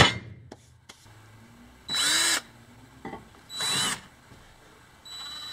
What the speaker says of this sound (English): So I should just have to drill up from the other side.